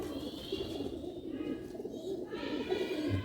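A pigeon coos softly and repeatedly close by, its low throaty calls rising and falling against a faint background hiss.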